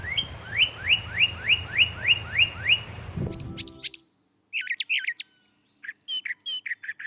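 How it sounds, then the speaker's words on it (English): A brown thrasher sings, first a rapid series of about eight repeated whistled notes over a hissy background, then sharper, varied chirps and phrases separated by short gaps. "This is a song sung by a brown thrasher"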